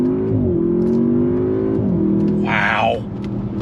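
A 2023 Audi S8 accelerates at full throttle from inside the cabin, a loud rising engine note climbing through a gear change, then a quick rushing whoosh near the end as the revs drop.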